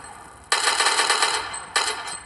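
Automatic gunfire from a video game mod rattles out in two sustained rapid bursts, the first long and the second short, loud and alone.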